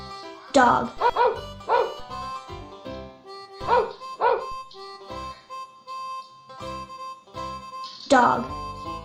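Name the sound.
dog barking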